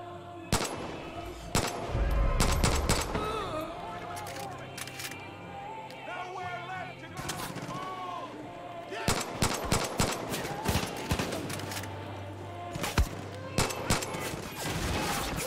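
Rifle shots ring out in Far Cry 5, clusters of sharp cracks and quick bursts scattered across the stretch, with someone talking over them.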